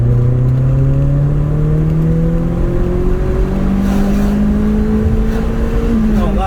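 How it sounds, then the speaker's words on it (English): A car engine revs hard under acceleration, its pitch climbing steadily through long rising sweeps, loud and close throughout with no talk. "It really sings away very nicely. That really does rev. It revs out."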